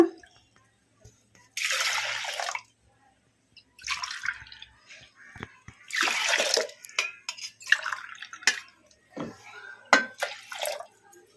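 Glassfuls of water are poured into a pressure cooker holding rinsed toor dal, several separate splashing pours with quiet gaps and a few drips between them.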